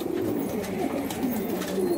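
An apricot pouter pigeon cooing close by, low soft warbling coos over a steady background murmur.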